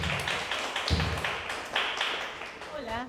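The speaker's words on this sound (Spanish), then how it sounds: "Brindemos un fuerte aplauso a la maestra." An audience at an international academic congress claps in a dense, steady round of applause that tapers toward the end, with some background voices mixed in.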